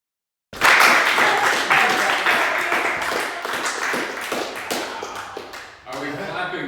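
An audience claps at a poetry festival in Belle, Missouri, a dense burst of applause that starts abruptly, holds loud and close for several seconds, then briefly thins and swells again.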